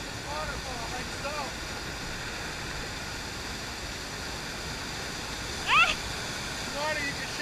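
A waterfall on the West Branch of the Penobscot River rushes in a loud, steady broadband roar throughout, with people talking over it and a brief sharp voice burst near the end.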